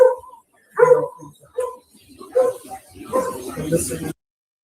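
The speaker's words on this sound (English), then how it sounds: "That's a close ass dog." A dog barks close by in short bursts, rising loud against a quiet night scene, with people talking around and between the barks.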